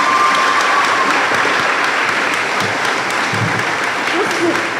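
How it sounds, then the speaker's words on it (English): A graduation crowd applauding the principal and vice principal, dense continuous clapping from many hands, loud and steady throughout with no voices standing out. "that alone deserves a round of applause"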